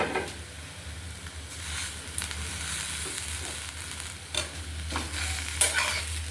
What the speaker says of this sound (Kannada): ಚೆನ್ನಾಗಿ ಕೊತ್ತಂಬರಿ ಸೊಪ್ಪು ಹಾಕಿ ಚೆನ್ನಾಗಿ ಮಿಕ್ಸ್ ಮಾಡಿ ಆಫ್ ಮಾಡಿಬಿಡೋಣ